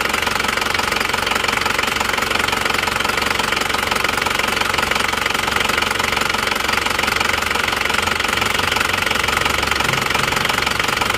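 An Isuzu Panther LS automatic's engine runs steadily and loudly throughout with a dense mechanical knocking clatter, revving under throttle with no one speaking.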